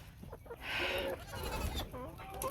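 Goats bleating on a farm where chickens also roam, a few bleats rising close by over outdoor background noise, with a bleat near the middle and light movement around it.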